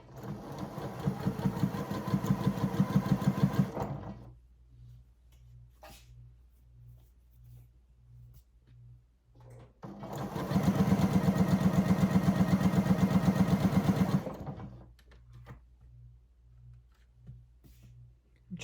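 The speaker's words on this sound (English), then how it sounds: "I am just going to do a long basting stitch for this and we shall get it all basted together" A sewing machine runs a long basting stitch through cargo pants muslin in two loud, steady bursts of whirring needle strokes, with quieter rhythmic ticking of the machine in the pauses between.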